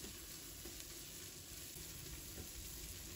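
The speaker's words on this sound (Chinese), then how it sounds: "把姜蒜末放入锅中翻炒" Minced ginger and garlic stir-fried in the oil left in a wok after cooking lean pork make a dense, steady sizzle and crackle that holds close and constant throughout, with no talking.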